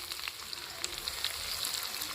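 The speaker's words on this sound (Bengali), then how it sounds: "তেল গরম হয়ে গেছে পেঁয়াজ কুচি দিয়ে দিলাম" Chopped onion dropped into hot oil in a pan, sizzling steadily with a bright crackle and scattered pops, close and even in level throughout, with no voices.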